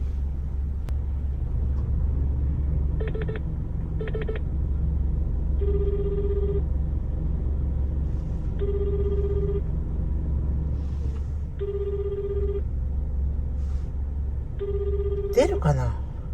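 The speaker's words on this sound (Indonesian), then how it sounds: "Oke kita telepon dulu ya." Outgoing telephone call: a repeating ringback tone, sounding in regular beeps of about a second each, follows a few short dialing-style tones and plays steadily over a low rumbling background.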